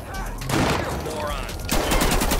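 A loud, continuous burst of gunfire rattles through a GTA 5 street shootout, with rapid overlapping shots that swell again near the end, close and dense.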